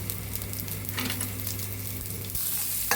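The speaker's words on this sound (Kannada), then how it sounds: "ಒಂದು 10 ಸೆಕೆಂಡ್ ಬೀನ್ಸ್ ಹುರ್ಕೊಂಡಿರ್ತೀನಿ" Green beans fry in a pan with mustard seeds, chana dal and urad dal, giving a steady close sizzle that runs the whole way with a few stirring scrapes and a brief clink near the end.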